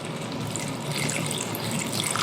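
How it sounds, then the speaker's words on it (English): Water runs steadily into a pot of beef bourguignon, a continuous close splashing pour with no talking. "we're going to take water and we're going to just fill it to cover this by about an inch or so"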